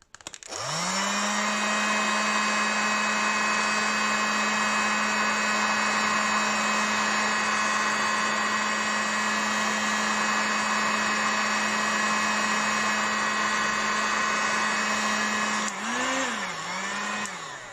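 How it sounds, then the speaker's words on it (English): A heat gun tightening fabric covering on an RC model plane, a loud steady electric blower whine held for about fifteen seconds, then wavering briefly before switching off. "So now let's apply some heat and see what happens to the tautness of the fabric."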